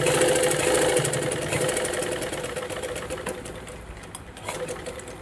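A sewing machine runs a seam of stitches over fabric to secure a hook fastening, a close, steady rapid mechanical whir that holds for several seconds and eases slightly near the end, with no speech.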